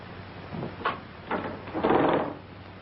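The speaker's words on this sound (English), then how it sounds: "Pull down the shades first, will you?" A few soft scraping, rattling pulls, like window shades being drawn down, quiet and close, spaced over a couple of seconds.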